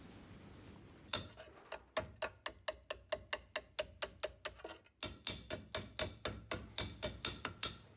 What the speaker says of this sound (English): Here I'm just flattening down the flanges just to get a nice crisp edge in that corner there